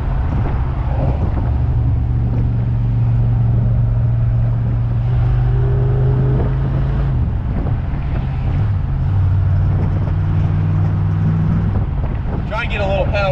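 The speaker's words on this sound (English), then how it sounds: "Try and get a little power out of them 3 carburetors under the hood." A car engine fitted with three carburetors, driving along, with a steady, loud low engine rumble and wind buffeting throughout and a voice talking now and then.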